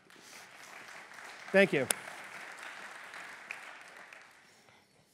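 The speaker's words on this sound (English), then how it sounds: "Can we have a round of applause for our AV team?" An audience at a business software presentation applauds its AV team with moderate, steady clapping that tapers off toward the end, while a voice speaks briefly over it.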